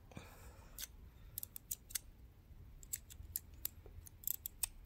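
Scissors snipping through the rope and fabric of a double welt trim: a quiet, close series of sharp, irregular clicks and crisp cuts, some in quick bursts, over a faint background.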